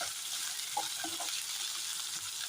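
Ginger-shallot paste frying in a pan gives a steady, soft sizzle with a few faint stirring clicks, no talk over it.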